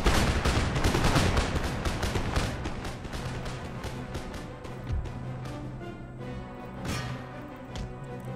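Musket volleys from skirmisher infantry crackle across an Empire: Total War battlefield, dense overlapping shots firing in ragged bursts, loud at first and thinning to scattered reports with occasional heavier thumps.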